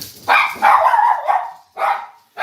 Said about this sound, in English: There's activity downstairs. Yeah, dogs.